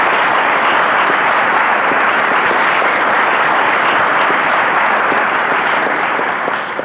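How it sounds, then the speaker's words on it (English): Sustained, loud applause from a studio audience for the teachers on a televised Nigerian quiz show, dense and steady throughout before tapering slightly at the very end. "a round of applause to our teachers"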